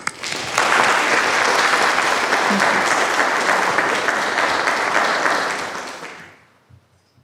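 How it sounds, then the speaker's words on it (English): Sustained audience applause at a cultural archive event honoring a Caribbean writer, loud and dense from the start, holding steady for several seconds before tapering off into near silence. "let us give a round of applause for Professor Collins"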